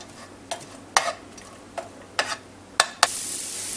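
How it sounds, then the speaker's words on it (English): Garden onions hit hot oil in a skillet with a string of sharp scrapes and clatters, ending in a loud, bright sizzle that swells near the close. "Let that heat up, and then we're just going to add a handful of onions straight out of the garden."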